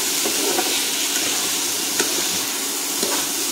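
Potatoes sizzling in a pan with Kashmiri red chilli powder while being stirred, a dense steady frying hiss with faint scraping ticks as the spoon moves.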